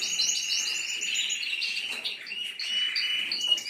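Canaries, newly bought and stressed after travel, chirp and warble continuously in bright overlapping calls, close and fairly steady, with no voices.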